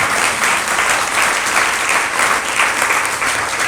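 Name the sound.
audience applause at a sermon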